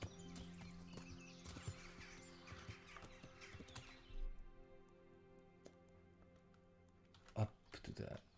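Horse hooves clip-clopping in the medieval game Kingdom Come: Deliverance, a steady mid-distance patter with a brief whinny-like burst near the end, heard under low game ambience and a talking voice.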